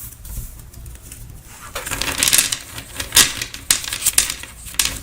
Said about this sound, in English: I will shuffle them a little bit more just to be sure everything is well shuffled